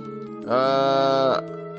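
A single drawn-out bleat from a goat or sheep, loud and close, held for about a second against a quiet background.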